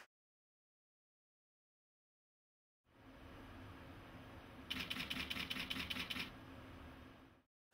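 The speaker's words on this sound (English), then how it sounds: "you need only to press the shutter once to have all shots fired off simultaneously" A Nikon D200 camera shutter firing a rapid burst of bracketed shots: a quick run of crisp mechanical clicks lasting about a second and a half over a faint steady hum, after a stretch of silence.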